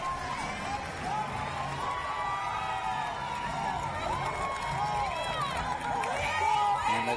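A crowd cheers at a wheelchair basketball bronze medal celebration at a multi-sport games, with sustained roaring and whistling in an arena, overlaid by excited voices close by.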